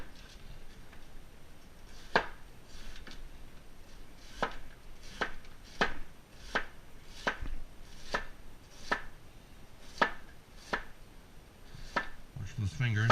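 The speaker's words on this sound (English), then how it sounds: "I'm just going to finely chop it." A knife finely chops cabbage on a board for coleslaw, sharp distinct thuds in a loose, fairly even rhythm about once a second, close and crisp over a quiet room.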